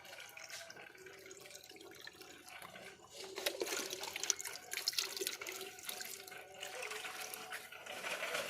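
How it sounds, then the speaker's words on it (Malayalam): Water runs from a tap into a lotus planting container, a soft, steady splashing gush that grows fuller and louder partway through, heard close and without any talking. "ഏകദേശം നമുക്ക് വെള്ളം ഫില്ലായി തുടങ്ങിയിട്ടുണ്ട്."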